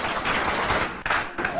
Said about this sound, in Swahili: Piga makofi James.